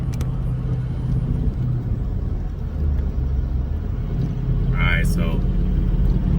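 Steady low engine rumble from a pickup truck pulling a 40-foot trailer on a hotshot haul, continuous and close, as someone talks over it.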